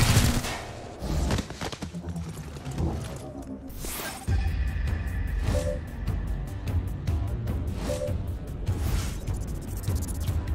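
Rapid squad gunfire from the tactical video game XCOM: Chimera Squad: dense, loud bursts of shots and rattling volleys over a rumbling game soundscape, with brief pauses between salvos and no talk.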